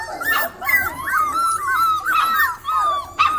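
Several four-week-old puppies yip and bark at each other while playing, in quick, overlapping high-pitched bursts, with a few whimpers, close by and fairly loud throughout.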